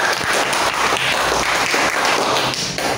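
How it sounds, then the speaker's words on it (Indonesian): A classroom of students applauds group 3 after their presentation, a loud, close, continuous burst of hand clapping lasting a few seconds. "tepuk tangan untuk kelompok 3"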